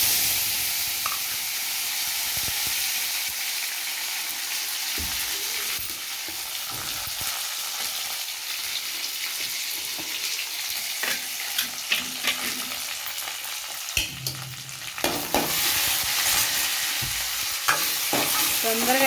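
Dried red chillies, onion, curry leaves, coriander and garlic tempering in hot oil for a spinach dal, loud steady sizzling with repeated spoon stirs and scrapes close up, growing busier toward the end.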